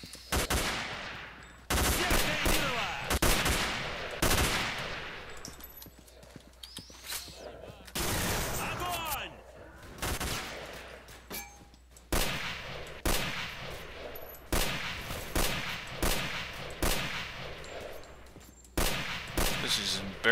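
Gunfire in S.T.A.L.K.E.R. with the Misery mod, repeated loud shots and bursts in sharp clusters with quieter gaps between, over game ambience.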